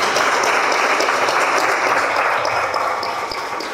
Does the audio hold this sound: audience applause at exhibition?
yes